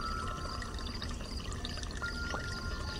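Water collecting in a farming video game: a steady, dense pouring and trickling rush that fills the whole moment at an even level, with no voices.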